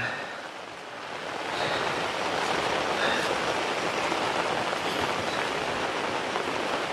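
Steady rain falls outdoors on a mountainside among taro plants, a dense, even hiss that holds loud and continuous throughout with no voices.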